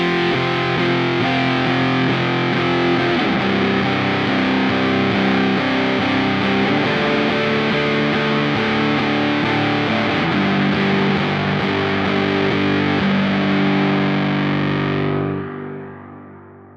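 An electric guitar with heavy fuzz played through a Kemper amp, a thick, sustained distorted chord ringing loud and unbroken for about fifteen seconds before dying away into silence.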